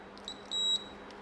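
A Ryobi 9V non-contact infrared thermometer beeps near 4 kHz: two short chirps, then one longer tone, thin and clear over a quiet background hiss.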